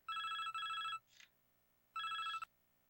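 A telephone rings inside the NASCAR 2005: Chase For The Cup video game, with two bursts of a trilling electronic ring separated by a brief chirp and a pause.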